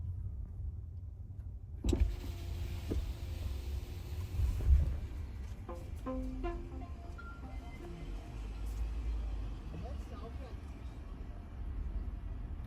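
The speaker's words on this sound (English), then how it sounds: "Opening the car window now." Tesla Model Y with its window opening, a brief electric motor whir followed by steady outside road and traffic rumble flooding into the cabin, with speech over it.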